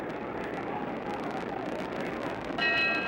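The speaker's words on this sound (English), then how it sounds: "There's the bell for round 2." A boxing ring bell sounds near the end, ending round 2 of a heavyweight bout between Muhammad Ali and Ernie Terrell, a bright ringing tone rising over the steady roar of the arena crowd.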